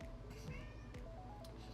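A house cat meowing in protest after being locked out of a bedroom, a few faint, brief meows close by over a quiet indoor background.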